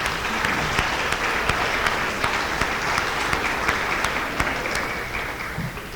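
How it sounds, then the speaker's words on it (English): Sustained applause from a school audience at a junior high awards ceremony, honoring recognized students; dense, steady clapping fills the room for several seconds, then tapers slightly toward the end with no talking. "let's give all the students that have been recognized one more round of applause right now"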